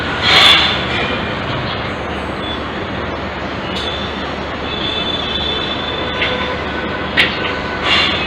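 A Tapti Ganga train at Surat railway station, heard as a loud steady rumble of rolling wagons with a few sharp squeals and clanks, close by, with no voices.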